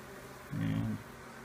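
Honeybees in a queenless hive box, a low buzzing hum that swells briefly into a louder, fuller drone before dropping back to a faint background buzz.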